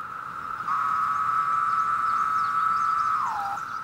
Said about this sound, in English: Only male cicadas make this sound by vibrating drum-like membranes in their exoskeletons